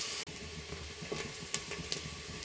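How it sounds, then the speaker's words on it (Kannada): Onions and green chillies frying in a pan over a medium flame for vaangi pulao give off a quiet, steady sizzling hiss with a few faint taps from stirring. "ಅಷ್ಟು ತನಕ ಇದನ್ನ ಮೀಡಿಯಮ್ ಉರಿ ಇಟ್ಕೊಂಡು ಫ್ರೈ ಮಾಡ್ಕೊಳ್ಳೋಣ"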